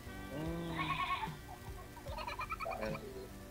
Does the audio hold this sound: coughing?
no